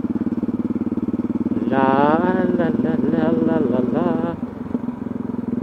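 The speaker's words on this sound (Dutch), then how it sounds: "motorrijden, dat is toch zo leuk" A motorcycle engine runs with a steady low throb while riding on a road, and someone talks over it for a few seconds.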